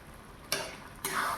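Milk cream being stirred in a wok while it cooks down into ghee: two distinct scraping strokes of a spatula against the pan over a soft, steady sizzle, close and fairly quiet, with no talking.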